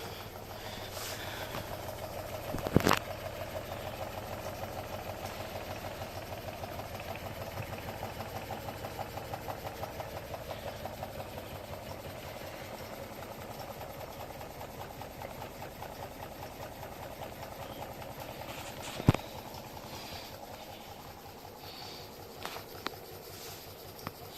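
A small gamma-configuration Stirling engine with a generator runs steadily at about 390 rpm, with a continuous low mechanical hum and faint rhythmic ticking, broken by a couple of sharp clicks, with no talking.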